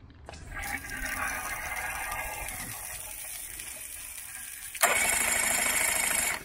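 A 2010 Yamaha F9.9 outboard motor cranks and starts after a carburetor cleaning. It gives a rough, broadband mechanical roar that steadies, then jumps louder near the end.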